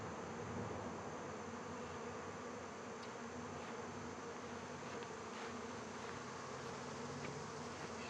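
Honey bees buzzing steadily around a hive, a dense continuous drone that stays level throughout, fairly quiet, with no voices.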